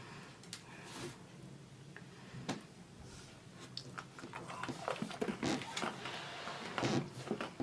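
Someone bites and chews a crunchy aerated chocolate bar with air bubbles, a Harry Potter house-themed bar, producing quiet, close, irregular crunches and snaps.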